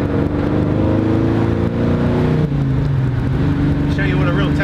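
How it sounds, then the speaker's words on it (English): A 1969 Chevy Camaro muscle car's exhaust rumbles loud and close at a steady idle-to-rev drone, with someone talking over it. "Listen to that exhaust."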